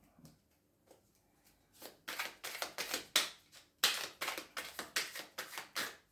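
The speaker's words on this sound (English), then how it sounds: "It's really hard to shuffle." A deck of tarot cards is shuffled by hand close to the listener, with a long run of crisp, rapid riffling bursts broken by short pauses, after a few quiet taps at the start.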